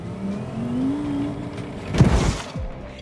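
Car crash in the BeamNG driving game: an engine hums and revs, then a sudden muffled impact with crunching, shattering debris, heard from inside the car, followed by fading rattles.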